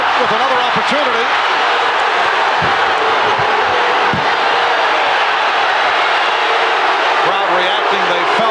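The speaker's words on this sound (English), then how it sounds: "Crowd reacting." An arena crowd at a 1993 NBA Finals basketball game in Phoenix roars loudly and continuously, cheering and shouting, with voices talking over it.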